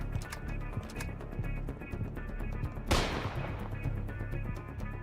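A single sharp sniper rifle shot cracks out midway through a Don 2: The Game PS2 gunfight, its echo trailing off over steady music and a ticking, hoof-like rhythmic background.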